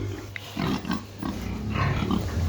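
Five-month-old piglets grunt and snuffle close by in a pen before deworming injections, a series of short, low grunts, with no talking.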